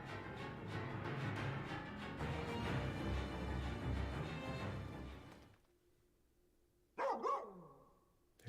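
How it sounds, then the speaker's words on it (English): Dog in the video game Final Fantasy XV, a run of rapid barks over busy game sound for several seconds, then a quiet lull and a final burst of loud yelping barks. "There's that dog again."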